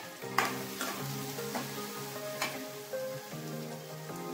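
Sliced onions and green chillies fry with fenugreek seeds in hot oil for a pulusu, a steady close sizzle broken by repeated clinks and scrapes of a spoon stirring the pan, with no voices.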